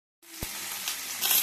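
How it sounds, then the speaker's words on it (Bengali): Bhetki fish paturi cooks in a covered pan, giving a soft, steady sizzle that starts after a brief silence, with one dull knock near the start and a slight swell toward the end. "এই মাছের ভাপাটা হতেও 20 মিনিট সময় লাগবে"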